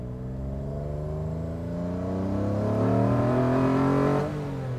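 Onboard a Lancia Stratos HF rally replica, the engine roars just behind the cabin, revs climbing steadily for about four seconds before dropping off, very loud and close, with no voices.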